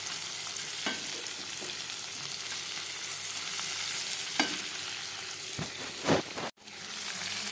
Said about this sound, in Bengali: হালকা করে একটু ভেজে নিই এটা